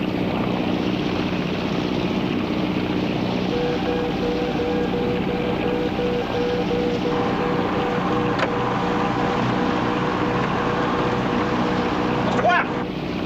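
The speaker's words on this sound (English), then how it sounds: "What's that boat dead ahead?" Steady low engine drone of a boat running continuously, with a faint whine and some background talk mixed in.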